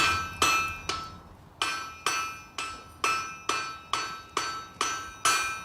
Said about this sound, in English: We need to get on the side of the anvil, hammer up, half on, half off, and hammer it down.